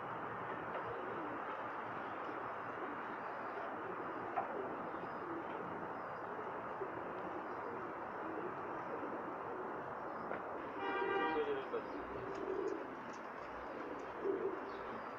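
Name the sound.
Pakistani pigeons cooing on a rooftop loft in Jeddah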